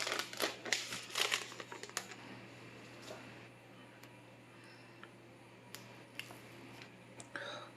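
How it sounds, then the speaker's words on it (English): Plastic protective film peeled off a new OPPO Reno 10x Zoom phone, a cluster of close crinkles and crackles at first, then sparse faint rustles over a low steady hum. "Sweet sound of plastic."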